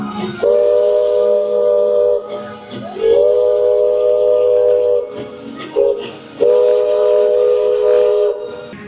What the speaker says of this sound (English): you've got the train coming in down here. So it's like, what is all that noise?